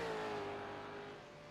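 A V8 Supercar race car engine in a racing video game holds a steady high whine with a slight pitch drop, close and loud and gradually easing off, with no talking.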